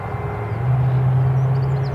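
Freighter aircraft at Newcastle International airport, a steady low engine rumble with a droning tone heard from a distance, continuous and fairly loud throughout with no voices.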